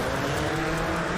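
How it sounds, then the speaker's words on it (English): A Kamaki Motors race car in an anime race setting off from the start, a brief, loud, dense engine roar with a tire-like hiss, steady throughout. "Kamaki Motors is ready to set off with its race car"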